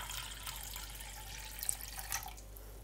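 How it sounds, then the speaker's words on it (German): Lukewarm water, 300 ml, poured onto dry yeast in a bowl, giving a steady, fairly quiet splashing trickle with a couple of slightly louder spatters near the end. "Auf meine Trockenhefe gebe ich 300 ml lauwarmes Wasser."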